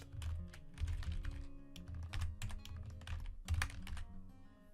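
Rapid, uneven keystrokes on a computer keyboard, clattering close and clear in short bursts with brief pauses, no voices.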